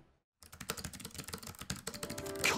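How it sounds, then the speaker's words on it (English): Rapid, dense keystrokes clatter on a computer keyboard during a typing race, a fast continuous flurry of close clicks after a brief silent start. "I can actually type faster on this keyboard than basically every other keyboard I've ever tried."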